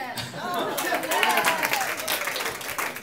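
An audience claps and cheers for a performer about to play a solo, a dense burst of applause mixed with crowd voices that swells and then fades.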